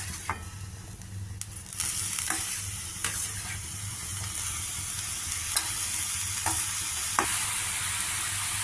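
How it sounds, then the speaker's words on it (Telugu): Soaked moong dal and grated coconut sizzle steadily in a pan with black-eyed pea pods, a continuous fry broken by sharp scraping clinks of a spatula stirring every second or so, close and fairly quiet with no talking. "నానబెట్టిన పెసరపప్పు కొబ్బరి అన్నీ పచ్చివాసన పోయేదాకా వేగాయి"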